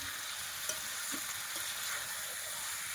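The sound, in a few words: stirring meat frying in a pan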